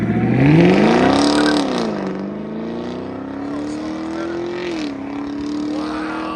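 A deep V8 exhaust on a 2022 Chevy Camaro LT1 with an MBRP cat-back system revs up sharply, then settles into a steady rumbling idle with small throttle blips and crackle, loud and close.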